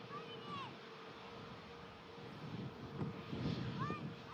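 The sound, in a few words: Airbus A320neo airliner rolling after landing at Manchester Airport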